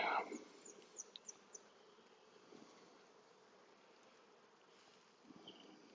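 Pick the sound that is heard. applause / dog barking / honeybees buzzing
honeybees buzzing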